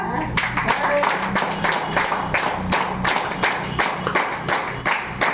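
An audience seated at a business opportunity meeting claps together in a lively, uneven rhythm, with distinct hand strikes standing out over a steady clatter of many hands and some voices mixed in.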